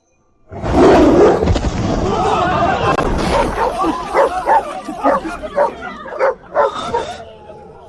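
Dogs in a fight in an animated drama: a loud snarl and growl opens, then a run of sharp barks and yips, with voices and crowd babble underneath.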